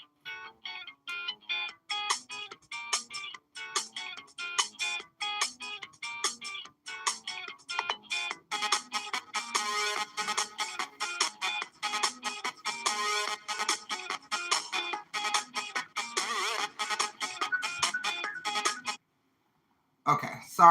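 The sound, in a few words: mobile phone ringing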